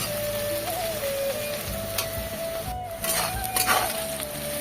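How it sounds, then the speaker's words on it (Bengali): Sliced onions fry in hot oil with a pinch of salt until reddish, giving a steady, close sizzle. Scraping stirs come in the second half, with a faint continuous hum underneath. "পেঁয়াজগুলো বেশ একটু লালচে লালচে করে ভেজে নেব"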